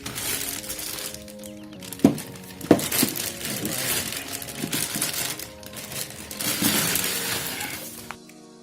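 Plastic wrapping pulled off a Simpex VCT 691 RM tripod, continuous crinkling and rustling nearby with a couple of sharp cracks, no talk.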